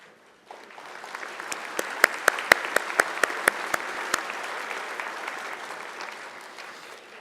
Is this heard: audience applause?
yes